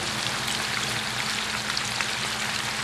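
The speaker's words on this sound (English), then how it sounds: "So I'm going to get the pork in here and brown that up" Pork browns in a hot skillet with a dense, even sizzle that holds steady and close throughout, like rain hissing on a surface, with no voices.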